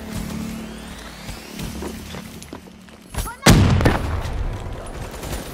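Gunfire from Call of Duty Black Ops III multiplayer team deathmatch, with Man-O-War assault rifle, bursts of shots and a loud blast near the middle, with game voice callouts and background effects throughout.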